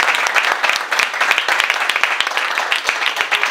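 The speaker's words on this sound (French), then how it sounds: "Applaudissez-la pour vous, merci." Lively audience applause at the opening of a Black History arts festival, loud and close, with sharp individual claps crackling over a dense crowd clapping throughout.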